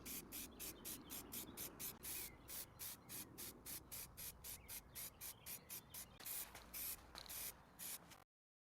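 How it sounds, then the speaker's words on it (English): A spray can lays clear lacquer onto a concrete surface in quick repeated hissing bursts, each about a quarter second with short gaps, steady and close, then stops abruptly. "Finally, I gave the concrete several coats of clear lacquer."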